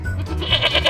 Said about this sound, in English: That's a nice little goat.